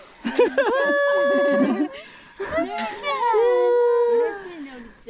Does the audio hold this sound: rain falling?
no